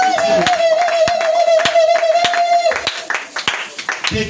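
Church congregation clapping for the glory of God, steady rhythmic hand claps carrying on through the moment while a sustained vocal tone and talking sound over them.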